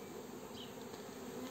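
Steady insect buzzing, like bees humming around a hive, continuous and fairly faint with no voices.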